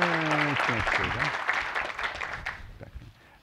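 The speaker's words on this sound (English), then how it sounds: "Let's give them a round of applause." Audience applause for the organizers of an inspectors general event, a broad wash of clapping that starts right after a voice and slowly fades out over a few seconds.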